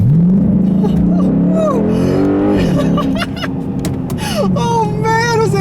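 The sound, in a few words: 2006 Chrysler 300C SRT8 6.1 liter Hemi V8 engine accelerating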